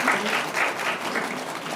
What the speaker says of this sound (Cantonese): 請大家俾掌聲